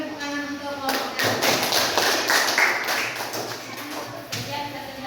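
Classroom clapping for a student group after their presentation on environmental pollution, a steady patter of hands from a small group that fades near the end, with voices talking over it.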